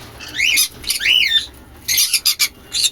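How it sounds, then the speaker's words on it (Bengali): Exotic adult birds in a bird shop squawk loudly and close by, with a few sharp rising calls followed by a quick run of harsh bursts. "পাখি দেখুন, পুরো অ্যাক্টিভ পাখি একদম।"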